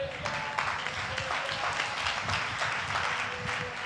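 Congregation at a Tamil Sunday church service clapping hands together, a dense, moderately distant wash of claps with a low rumble underneath and no clear speech.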